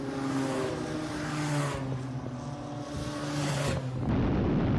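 A race car rolls around a circuit behind the safety car among other cars, its steady engine drone heard at moderate level from on board, ending in a burst of rougher noise.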